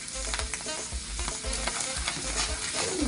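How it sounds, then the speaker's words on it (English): Tomato paste frying in hot oil, with a brief bright sizzle and crackle broken by rhythmic low stirring thumps, close up and without speech. "Add a little bit of oil. It's gonna pop and splash, because oil and water don't mix"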